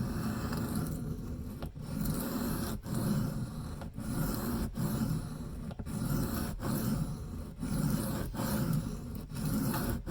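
Freehand sharpening of an Old Timer 5OTG Bruin knife in 1095 high-carbon steel on a stone: steady, rhythmic scraping strokes about once a second, close and continuous, with no talking.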